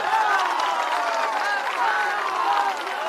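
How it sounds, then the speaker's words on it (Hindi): Crowd at an outdoor political rally in Bihar breaking into steady clapping and cheering, a broad wash of hands and raised voices that holds at the same level throughout. "बजा लो ताली जिसको बजाना है"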